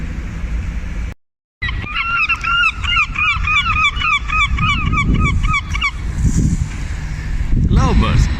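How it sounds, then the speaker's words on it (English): A seagull calls in Dublin, its harsh, repeated cries coming in a steady run of near, loud calls over background street noise before fading out. "The seagull, maybe one of the symbols in Dublin."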